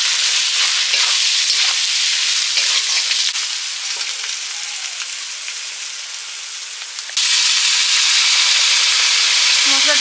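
Spice paste of garlic, ginger, chili and turmeric fries in a pan with added water, giving a steady close sizzle and hiss that dips briefly before surging loud again.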